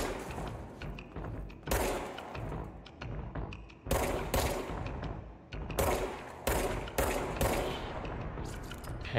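Gunfire erupts in bursts while shooting at enemies in Control, with sharp, loud volleys repeating at irregular intervals over a murky background.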